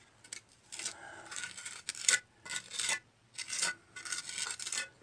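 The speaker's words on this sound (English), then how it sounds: "I'm just using the bottom part of the trowel." A trowel scrapes patching compound on a leaky basement wall, making a series of short, gritty rasping strokes in an uneven rhythm with quiet pauses between them, close and fairly soft.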